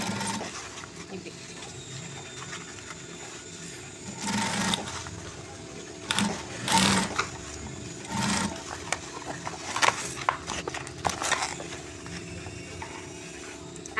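Sewing machine stitching a jute bag, running in steady whirring bursts with brief pauses and a few louder mechanical clacks in between, close up.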